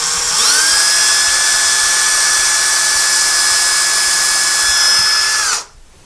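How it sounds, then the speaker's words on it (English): A power drill pre-drilling a screw hole into a wooden beam whines at a steady high pitch for about five seconds, loud and close, then stops abruptly. "So now we're going to pre-drill the beam the depth of the screw."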